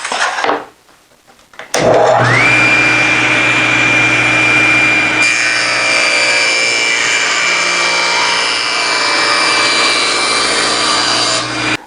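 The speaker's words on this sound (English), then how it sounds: "And here I'm going to cut the bin dividers, 3 of those, 6 inches wide" A power saw cuts wooden bin dividers for a lumber storage cart. A short quiet start gives way to the loud whirring spin-up and a steady, close cutting roar that changes tone midway as the blade works through the wood.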